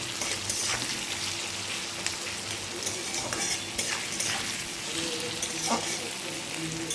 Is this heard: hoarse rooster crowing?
no